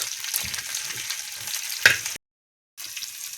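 Steady crackling sizzle of cumin, garlic and green chilli dropped into hot oil, loud and close, with a sharp pop near the end before a brief silence.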